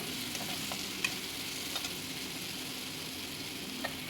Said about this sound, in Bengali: এটাকে আমি এখন আবার একবার কষিয়ে নেব